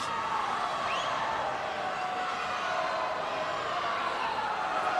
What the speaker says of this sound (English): So the crowd is starting to really lift for these last few individual events